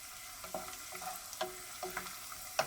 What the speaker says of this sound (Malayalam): കുറച്ചൊന്ന് ഫ്രൈ ആയി വന്നിട്ടുണ്ട് കാഷ്യൂ നട്ട്സ്. ഇനി നമുക്കിതിലേക്ക് ഉണക്കമുന്തിരി റൈസിൻസ് ആഡ് ചെയ്ത് കൊടുക്കാം.